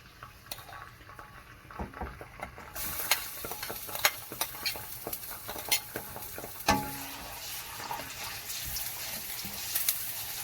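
Wet spices and garlic fry in hot oil in a pan for homemade hot chilli pickle, giving a steady low sizzle. A utensil scrapes and clinks against the pan now and then during stirring.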